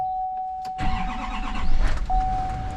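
A diesel pickup truck on a farm, about to be hooked to a flatbed, cranks over and catches, settling into a loud, close rumbling idle with a steady high whine running through, and no talk.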